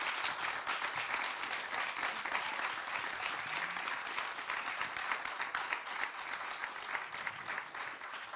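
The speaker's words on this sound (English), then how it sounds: "That was a very long clap." Sustained audience applause for conference speakers at a sustainable transport panel, a dense, even wash of many hands clapping that holds steady throughout without anyone speaking over it.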